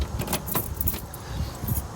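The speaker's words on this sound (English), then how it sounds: "lock the car real quick" Keys jangle in a quick series of metallic clinks while a car is being locked, close and fairly loud, with faint road noise behind.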